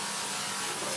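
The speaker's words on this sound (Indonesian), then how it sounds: "kita gergaji lagi." A hand saw rasps steadily through a coconut shell during handicraft making, a continuous dense scraping that stays loud and close throughout.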